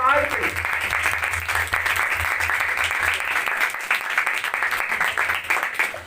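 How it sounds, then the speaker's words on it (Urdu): A church congregation gives loud, sustained applause praising Jesus, dense clapping and some cheering, with a voice talking over it. "یسوع کے جلال کے لیے تالی بجائیں گے، زوردار تالیاں"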